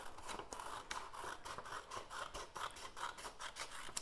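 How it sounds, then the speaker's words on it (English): Scissors cutting through a paper book page, a quiet run of repeated snipping and rasping strokes at close range, steady throughout with no voices. "So I'm going to cut this here for a minute."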